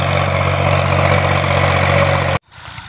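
A Massey Ferguson 240 tractor with an 18-disc harrow idles close by with a loud, steady diesel rumble that cuts off abruptly near the end, leaving faint background noise.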